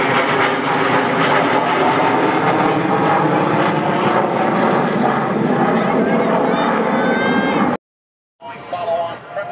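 A B-2 stealth bomber with engines buried deep in its structure passes over an air show with a loud, broad jet roar that swells and holds. A voice talks over it before the sound cuts out abruptly near the end.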